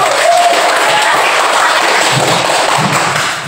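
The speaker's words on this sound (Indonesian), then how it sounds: "Oke, coba tepuk tangan dulu" A classroom of students clapping hands together, a loud continuous clatter of many small hands holding steady, with a brief tonal whistle early on and some voices underneath.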